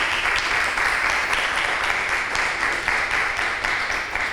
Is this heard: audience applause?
yes